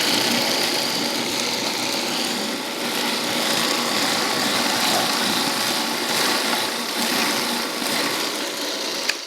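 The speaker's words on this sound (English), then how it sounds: "in your food processor, you want to let it go for about 10-15 seconds" Food processor whirring through a lentil vegan meatloaf mixture, a steady, fairly loud motor drone running without pause, with no voices over it.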